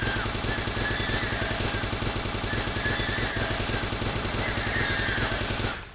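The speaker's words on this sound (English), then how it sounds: "Gotta properly burn your ears out with all this gunfire." Rapid gunfire from the video game Starbound rattles in a fast, evenly spaced stream of shots over a droning game soundtrack, continuing for several seconds before cutting off abruptly.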